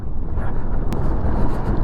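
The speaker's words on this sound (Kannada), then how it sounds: "ಗಾಳಿ ಜೊತೆಗೆ ಮರಳು ಬೇರೆ" Strong, roaring wind carrying blowing sand buffets the microphone in a dense, rumbling rush with no talking, in Ladakh near Pangong Lake.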